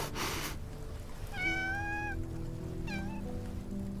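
A cat meows in the game Love and Deepspace, two clear drawn-out calls, the first longer and rising, the second short, close over a soft ambient bed with a brief rustle at the start.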